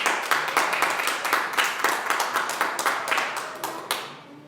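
A church congregation claps during a Spanish-language sermon, loud close-up hand claps in an uneven rhythm that fades out at the end.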